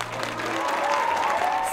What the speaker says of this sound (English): the energy from all the performers were felt throughout the whole room as the audience clapped